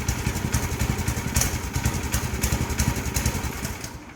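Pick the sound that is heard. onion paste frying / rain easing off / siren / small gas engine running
small gas engine running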